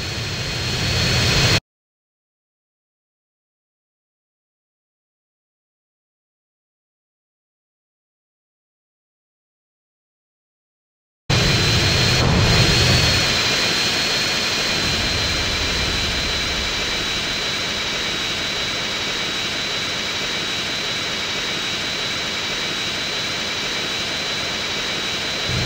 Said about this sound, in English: I want to stabilize the jet